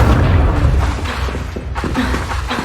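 Fire spells are cast in Hogwarts Legacy, producing loud whooshing bursts of flame, one early and another near the end, against a heavy low rumble.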